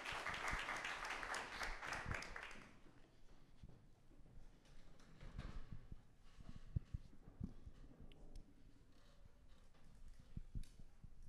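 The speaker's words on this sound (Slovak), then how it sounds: "Tak poprosím potlesk pre našho MJ." Audience applause for a presenter at a tech meetup, fairly loud for the first two seconds and then fading into scattered, faint claps and room noise.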